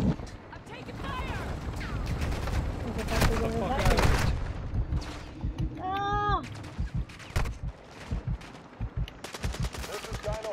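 Rapid bursts of gunfire crackle in Call of Duty's Al Mazrah zone of Warzone, loud and repeated, mixed with game radio chatter and voices talking throughout.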